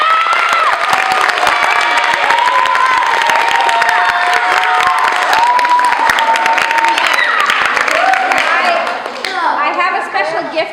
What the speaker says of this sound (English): Round of applause for the two officers